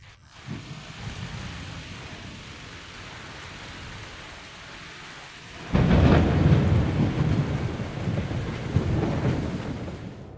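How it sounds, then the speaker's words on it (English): A thunderstorm over the tower in Mecca, with lightning striking it: steady rain hiss gives way to a loud, close thunder crash near the middle that rolls on with a second surge and keeps rumbling over the rain. "Lightning strikes hitting the tower in Mecca lit up the sky for a long time."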